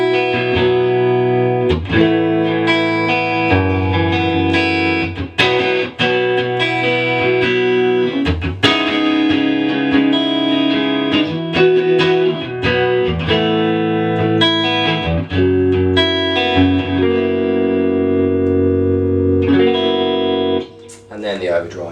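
Electric guitar played through a 2018 Marshall DSL amp on its clean channel with built-in digital reverb and a Celestion 12-inch speaker; bright ringing chords and picked notes ring out loud and continuous for about twenty seconds before cutting off.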